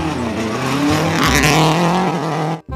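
A toy race car gives off a loud electronic racing-engine effect, a revving whine that rises and falls with screeching tire sounds, cutting off abruptly near the end.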